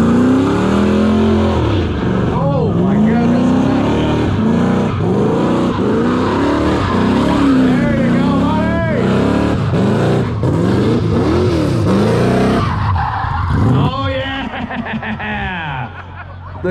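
A Mopar car does a burnout at a burnout competition, its engine revving hard in repeated rising and falling surges, loud and close, with crowd noise underneath, before easing off near the end.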